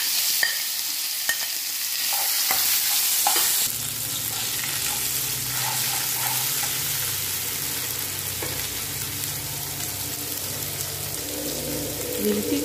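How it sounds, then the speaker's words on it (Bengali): Ground mustard flowers dropped into hot oil with red-fried dried chillies, a hiss and crackle that settles into steady frying with repeated stirring scrapes, no talking. "এখন বেটে রাখা সর্ষে ফুলটা তেলের ভিতরে দিয়ে দিচ্ছি।"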